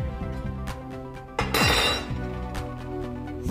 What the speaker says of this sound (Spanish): Agregamos unos hielos.